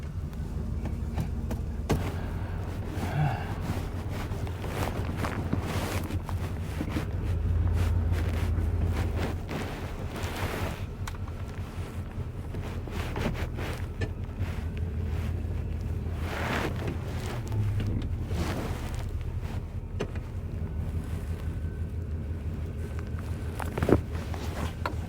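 A four-wheel-drive truck idles after a muddy trail run, giving a low, steady engine rumble that runs throughout, mixed with heavy wind buffeting and occasional knocks.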